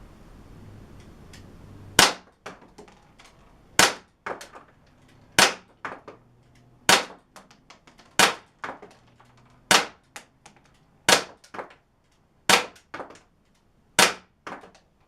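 A Crosman C41 CO2 air pistol fires from a bag rest at about fifteen feet on a fresh CO2 cartridge: about ten sharp, loud cracks spaced a second or two apart, each with a faint thud after it.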